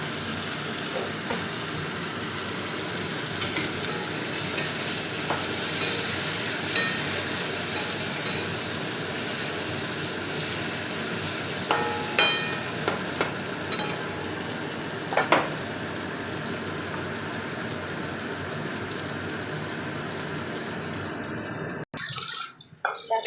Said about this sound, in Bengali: উচ্ছেগুলো কিন্তু বেশ লাল লাল করে ভাজা হয়ে গেছে।